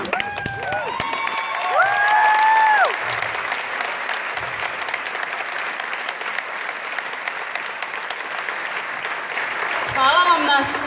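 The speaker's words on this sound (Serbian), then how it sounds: "Hvala vam na svakom vašem aplauzu" An audience claps loudly at a folk ensemble's annual concert, with the applause continuing throughout, while a presenter speaks over it with occasional whistles or musical tones.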